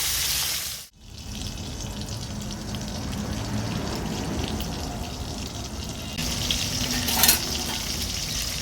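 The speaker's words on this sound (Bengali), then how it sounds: "তেল গরম হয়ে গেছে, মাছগুলো ছেড়ে দেব। মাছগুলোকে ভেজে নেব।" Small puti fish drop into hot oil and fry with a steady, close sizzle that continues on its own, with a brief clatter near the start and a sharper burst later.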